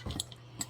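A few light metallic clinks of a fork against a bowl while stirring, with brief scraping between them, close and fairly quiet.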